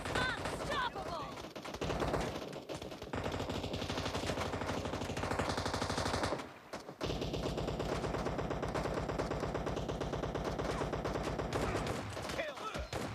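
Loud, dense, nearly continuous gunfire in PUBG Mobile during a shotgun-only challenge, with rapid overlapping shots that break off briefly midway and then resume.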